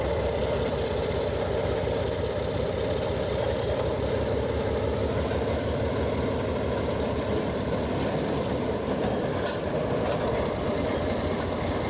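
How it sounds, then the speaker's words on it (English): An Alco diesel locomotive, number 32, backs down a spur with a continuous loud, rumbling engine drone and rail noise, steady throughout and close. "Number 32 backs down Blue Star spur to connect to today's outbound empties."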